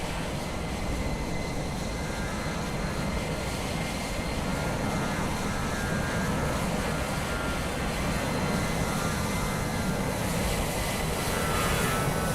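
An Aer Lingus A320 at Dublin Airport in Microsoft Flight Simulator 2020, a loud, steady engine roar with broadband rumble holding continuously throughout.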